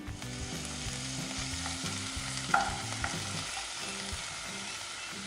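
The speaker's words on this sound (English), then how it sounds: "So once oil is heated, add chopped onion" Chopped onion fries in hot oil for a Goan ross omelette, making a steady, close crackling sizzle that runs throughout with faint low background music.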